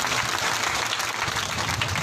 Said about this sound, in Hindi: भाई ताली बजा कर एक बार स्वागत कर दो